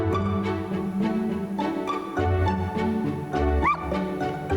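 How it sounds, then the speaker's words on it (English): A dog whimpers and yips in the role-playing game Metaphor: ReFantazio, with short whines rising over a steady bed of game music throughout. "I took the dog out without anyone seeing and walked her around the capital."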